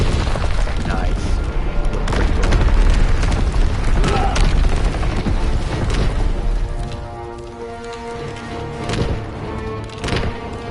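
Rapid gunfire and heavy booming blasts from a faster-firing gun in Call of Duty: WWII multiplayer, loud and dense, tapering to scattered shots near the end.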